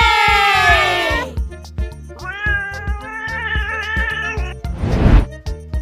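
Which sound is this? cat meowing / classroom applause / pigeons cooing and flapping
cat meowing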